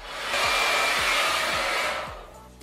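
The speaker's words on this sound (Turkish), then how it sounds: "böyle fırçalı bir makineyle önce saçlarıma kurutacağım" Hair dryer with a brush attachment drying hair, a loud steady whooshing blow that ramps up quickly, holds for about two seconds, then fades as it moves away, with faint low thumps underneath.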